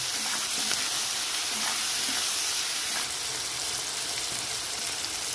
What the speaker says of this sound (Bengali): পেঁয়াজ কুচিটা করে দিয়ে দেবো, লবণ দিয়ে দেবো অল্প সামান্য, ভালো করে নেড়ে চেড়ে একটু হালকা করে লাল করে ভেজে নেব।